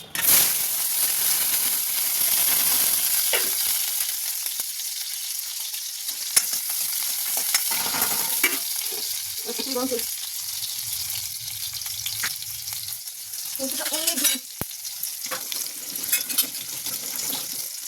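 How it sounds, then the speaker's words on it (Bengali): Continuous hiss of green chillies sizzling in hot oil, with occasional clinks and stirring scrapes; a few soft background sounds come and go. "এই কাঁচা লঙ্কা এটা আমি এখন এই তেলের মধ্যে দিয়ে দেবো"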